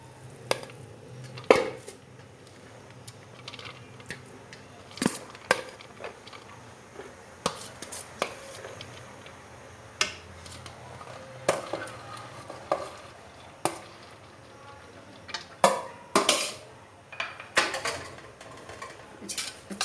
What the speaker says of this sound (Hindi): अब इसके अंदर हम चावल शामिल कर देंगे।